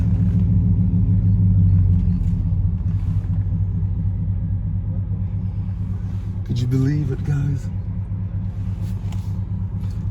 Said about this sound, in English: I'm driving the fastest production truck right now